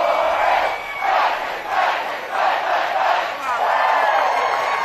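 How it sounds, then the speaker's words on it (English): A home crowd at a college baseball regional game between Clemson and St. John's roars and whoops after a hit off the left field wall, loud surging cheers in waves with announcer talk over them. "And the home crowd loves it."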